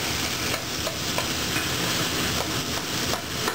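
Rough-chopped onions fry in a pan for a New Orleans roast beef debris po-boy, giving a steady, close, continuous sizzle with faint stirring scrapes throughout and no talking.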